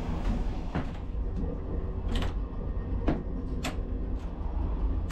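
A train toilet door on a Slovak express from Banská Bystrica to Bratislava is shut and its stiff lock worked, giving several sharp metallic clacks and rattles over a steady rumble of the moving carriage, with no talking.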